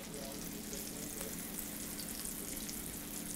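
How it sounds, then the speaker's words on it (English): Chicken frying in a pan, a soft continuous crackling sizzle heard close up and fairly quiet, with a steady hiss and no talk over it. "As you can hear the sizzle."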